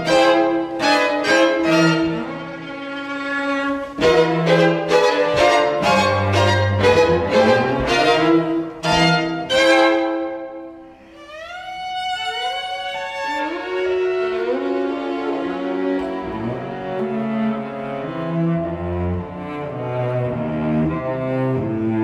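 An excerpt from the Prima Parte of Bartók's String Quartet No. 3, with a string quartet playing sharp, repeated bowed chords that give way to sliding glissando lines and sustained, dissonant overlapping phrases.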